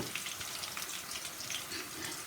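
Chopped ginger and garlic fry in hot oil for Chinese egg noodles, giving a steady, soft, even sizzle with no talking over it.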